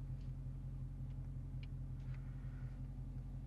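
A Dodge Daytona 392 drives with the windows up, heard from inside the cabin as a steady low engine rumble and road drone, even and continuous throughout.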